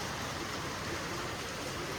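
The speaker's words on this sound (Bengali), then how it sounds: "দেখি এরকম বৃষ্টি হচ্ছে" Heavy rain falls in a dense, even hiss with no breaks, a steady downpour heard over a short stretch with no voices.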